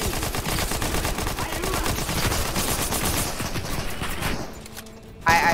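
Rapid, dense Primal SMG fire in the game Fortnite, a loud sustained stream of automatic shots that tapers off into quieter game sounds near the end.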